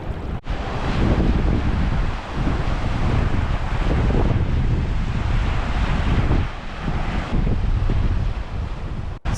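Wind buffets the microphone while surf washes continuously at an inlet crossing on the south coast of Western Australia near Denmark, with broad, loud rushing swells rising and falling close by.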